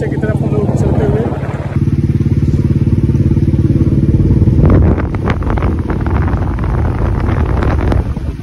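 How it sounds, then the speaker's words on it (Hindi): A Royal Enfield Bullet motorcycle rides off after a hard start, its thumping single-cylinder exhaust pulsing rapidly and steadily up close, mixed with strong wind buffeting on the microphone and brief talk over the engine. "तो फाइनली हमारी बुलेट स्टार्ट हो गई है और हम लोग चल रहे हैं।"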